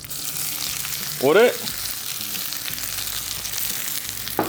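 Sliced onion and urad dal fry in a pan with a constant sizzling hiss, while a person speaks briefly over it.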